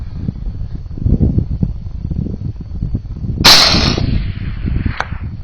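A rifle shot at night fired at a rock in the Nevada desert, one loud sharp crack with a short ring-off after a stretch of low outdoor rumble, followed by a fainter brief impact.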